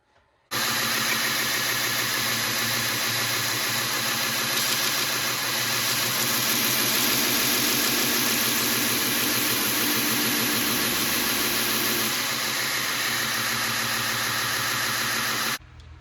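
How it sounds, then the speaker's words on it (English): A grinder squares up G10 knife handle scales where they meet the bolster, starting abruptly and running as a steady loud whine with grinding hiss for about fifteen seconds before cutting off, no voices. "I'm going to square that up on the grinder first"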